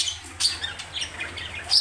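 Pet birds in a home aviary squawk and chirp repeatedly, with sharp close calls over a low steady hum and no voices.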